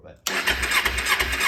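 A 2009 Kawasaki Ninja 250 engine cranks over on the starter, a close, steady whirring churn that kicks in suddenly and continues with a slight pulsing rhythm.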